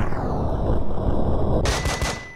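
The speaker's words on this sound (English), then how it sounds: "Flashbang. Flashbang out." Flashbang grenade going off in the tactical shooter game Breach & Clear: a steady noisy rush, then a sharp bright burst followed by a few quick crackling pops that fade away.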